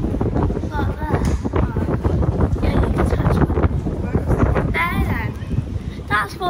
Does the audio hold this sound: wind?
yes